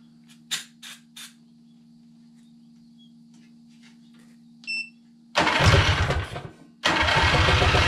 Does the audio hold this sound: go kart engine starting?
yes